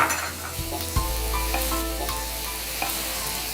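Two large tomatoes cut into big square chunks drop into sizzling chilli and coriander spice masala, giving a loud hiss and clatter followed by steady frying and stirring.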